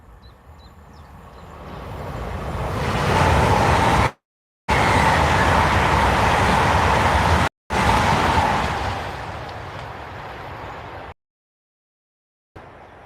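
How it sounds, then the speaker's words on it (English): A loud train rumbles past close by, its roar building and holding steady before fading, with abrupt cuts in the sound. "Train."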